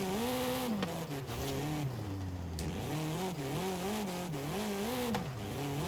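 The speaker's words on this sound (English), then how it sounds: "Even the little taps in the low revs of the third, it's keeping those rear wheels spinning" A torquey 2-liter drift car in the Forza Horizon racing game revs up and down in rising and falling sweeps while its rear tires spin and squeal, loud and continuous with no talking.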